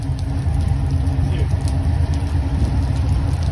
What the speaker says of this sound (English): It's another mixed train like last time.